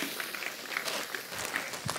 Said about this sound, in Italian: Facciamo un applauso a Gianmarco.